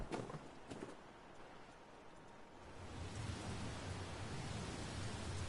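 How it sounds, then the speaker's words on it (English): Soft, steady rain hiss from the rain ambience of the video game Sky: Children of the Light, thickening and growing a little louder partway through, with a few faint taps early on. "This is just good old ASMR rain sounds."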